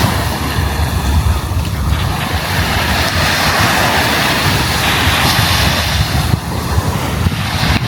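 Strong ocean waves roar continuously at a beach in Zambales, with heavy wind buffeting the microphone, loud and unbroken.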